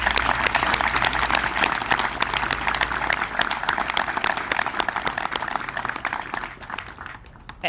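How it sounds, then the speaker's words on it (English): A quick round of applause fills a U.S. Army Special Operations farewell ceremony, dense and loud clapping from a large audience that thins slightly and tapers toward the end. "Can we please give them a quick round of applause?"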